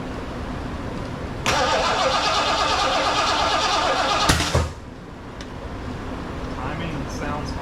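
A rebuilt 460 V8 in a 1975 Lincoln Continental cranks over with the starter solenoid bypassed, cranking loudly for about three seconds, then catches briefly and drops to a quieter, uneven idle.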